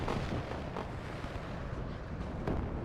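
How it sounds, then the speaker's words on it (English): Enemy artillery barrages pound a battlefield in a war video game, a dense, continuous roar of overlapping distant blasts with a sharper thump near the end. "Artillery coming in from the enemy."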